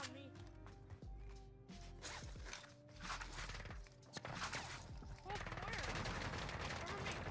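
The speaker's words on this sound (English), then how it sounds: "They're shooting at me!" Gunfire in Warzone, a Call of Duty battle royale game, comes as repeated bursts of automatic fire, some close and some farther off, under game music and clatter, with a player's voice talking over it.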